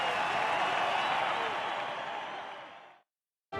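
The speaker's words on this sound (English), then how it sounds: "Let's give him a big round of applause." Crowd applause in a Dragon Quest Monsters: The Dark Prince cutscene after a category winner is announced, a dense steady clapping that fades out over three seconds, a brief silence, then a new burst of applause starting at the end.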